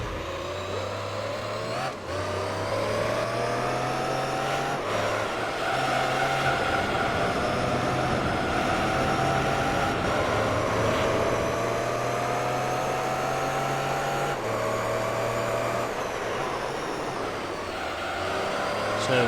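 Race car engines in Gran Turismo 3 at Grand Valley Reverse, with a Pagani Zonda among the field, as a steady, sustained drone that shifts pitch at each gear change, continuous and fairly loud throughout.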